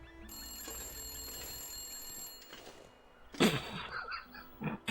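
A telephone rings inside The Long Dark video game with a steady, bright electronic trill for a couple of seconds, then stops as louder voices and a brief laugh take over.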